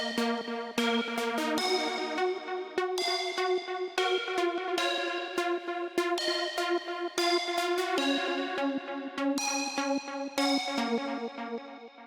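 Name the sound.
pluck reverb melody together with Serum synth pluck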